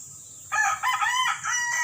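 A fighting rooster crows once, close and loud, a drawn-out call lasting over a second against a faint steady background hiss.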